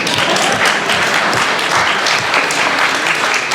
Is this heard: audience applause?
yes